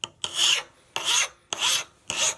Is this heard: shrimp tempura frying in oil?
no